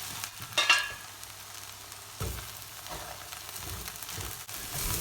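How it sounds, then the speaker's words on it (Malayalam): Raw plantain peel and green gram thoran, cooked with coconut, is stirred in a pan: a quiet, steady sizzle with a few spaced scrapes and soft knocks from the spoon, no voices. "നമുക്കിനി ഇത് ഇളക്കിയെടുക്കാം."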